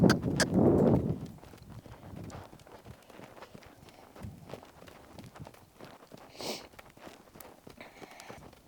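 A gaited horse doing liberty work on the ground: a loud burst of hoof and ground noise at the start, then a light, irregular patter of hoof falls at walking and trotting pace, with faint sounds around it.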